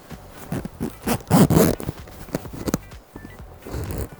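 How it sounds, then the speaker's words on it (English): Zipper on a quilted hoodie drawn up in several quick ratcheting pulls, close and fairly loud, with rustling fabric around it and no talking. "I have a zipper, which means I can zip it up now"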